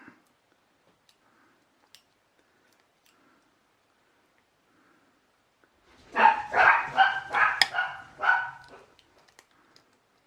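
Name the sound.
dogs barking in the background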